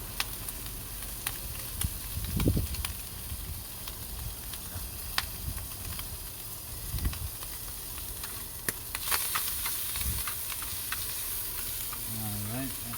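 Peppers stir-fried in a pan on a camp stove for a Denver omelette, a steady close sizzle and hiss with scraping stirs and a few clanks of a utensil against the pan, no talking.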